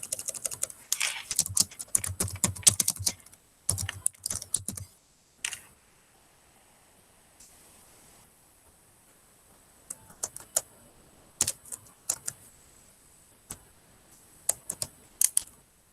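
Computer keyboard typing comes in quick bursts of clicks separated by quiet pauses, then scattered single keystrokes, close and fairly faint.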